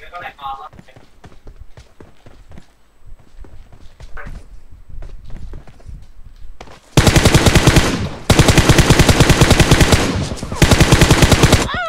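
Rapid automatic gunfire in a video game, loud bursts of rattling shots in the second half after a stretch of in-game thuds and clatter, with someone talking earlier.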